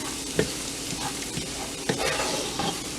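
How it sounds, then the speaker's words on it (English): Okra with shrimp frying in a pan for a Guyanese dish: a steady, close sizzle with occasional stirring scrapes, no talk. "So we're gonna fry this until it turns brown."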